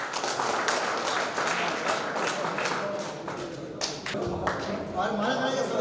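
Clapping from a gathered crowd at a solar motor project event in Rajasthan, a dense patter with sharp taps running throughout, mixed with loud overlapping talk.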